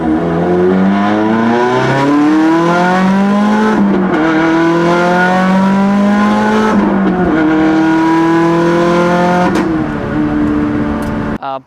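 A 400whp Subaru WRX with an aftermarket exhaust revs and accelerates hard, loud and close, the engine note climbing through gears in repeated sweeping pulls with brief dips between shifts.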